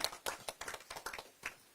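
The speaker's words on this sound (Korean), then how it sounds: "환영의 큰 박수로 김상욱 의원을 맞이해 주시기 바랍니다." An audience claps to welcome lawmaker Kim Sang-wook at a political event, a short burst of quick, uneven, close handclaps from a few people.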